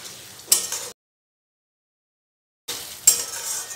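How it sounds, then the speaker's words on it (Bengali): A large tomato stirred into a spice masala in a pan for a no-onion, no-garlic aloo dum: two short bursts of spoon scraping with a metallic clink and light sizzle, separated by a silent gap. "আবারও মশলার সাথে টমেটোটাকে আমি ভালোভাবে কষিয়ে নেব"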